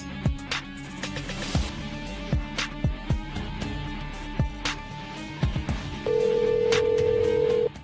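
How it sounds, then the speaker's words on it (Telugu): A telephone tone rings steadily and loudly near the end, following a stretch of rhythmic clattering thumps and background music. "నేను జయక్కకు ఫోన్ చేసి విజయ్ నంబర్ అడుగుతా."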